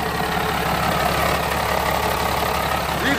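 A Detroit diesel in a Freightliner truck idles with the hood open, a steady, loud, rumbling and knocking drone heard close up with no talk.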